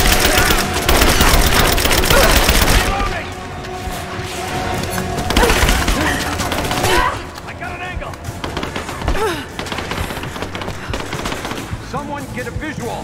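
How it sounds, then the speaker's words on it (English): Loud automatic gunfire in Rise of the Tomb Raider opens as a dense barrage, then breaks into scattered bursts and single shots at varying distance, with voices talking over parts of it. "Under fire!"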